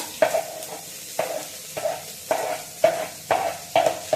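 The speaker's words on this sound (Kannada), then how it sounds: "ಇವಾಗ ಈರುಳ್ಳಿ ಫ್ರೈ ಮಾಡೋಣ." Onions fry in hot oil in a home kitchen while a spoon stirs them, giving a steady sizzle broken by about seven regular scraping stirs, close and clear.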